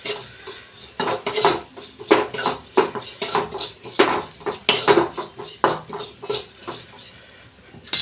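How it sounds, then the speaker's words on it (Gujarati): A spoon stirs tempering in a pan with mustard seeds, cumin and turmeric over lowered heat, giving repeated metallic scrapes and clinks against the cookware, close and steady with short pauses, no voices. "ચમચા કરીને હલાવી નાખવાનું."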